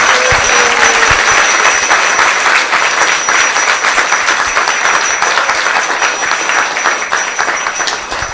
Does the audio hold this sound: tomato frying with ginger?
no